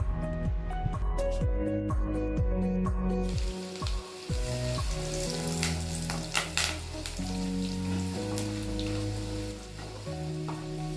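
Garlic and curry leaves sizzle and crackle in hot sesame oil for a brinjal kara kuzhambu, a steady frying hiss with occasional stirring clinks, running under background music.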